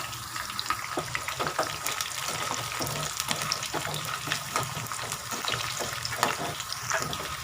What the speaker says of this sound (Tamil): இந்த ஆழ்வெளி கிழங்கு வந்து ஆஃப் குக் பண்ணது அதுக்கப்புறம் தான் கட் பண்ணி இப்போ நாங்கள் வறுத்து எடுக்கிறோம்